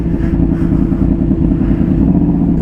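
A Yamaha R1 crossplane motorcycle engine idling or running steadily nearby, a dense low rumble with an uneven pulsing beat and no talk.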